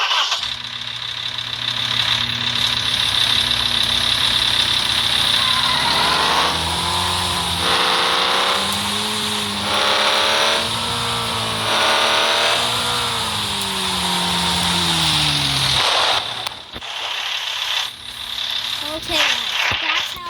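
A truck engine in the off-road driving game Offroad Outlaws cranks, then revs up and down in rising and falling surges for about ten seconds before cutting back to a rough idle, loud and close.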